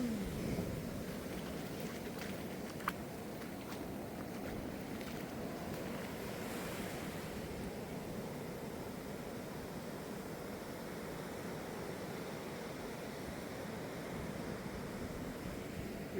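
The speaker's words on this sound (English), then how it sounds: "The ocean's kind of intimidating at night." Ocean waves at night, a soft, steady wash of surf with a low rushing roar that stays even and distant throughout, with no talking.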